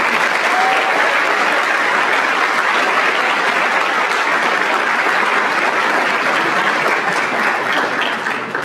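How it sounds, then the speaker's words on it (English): A large audience at a high school scholarship night gives its donors a final round of applause. The clapping is loud and sustained, a steady, even roar from start to finish. "Let's give one final round of applause to our donors."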